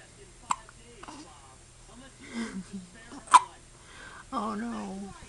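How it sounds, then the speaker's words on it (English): A small child hiccups several times in short, sharp bursts, close by, with breathy vocal sounds and brief whimpers between them. "Hiccups, go away! Hiccups, I command you, be gone!"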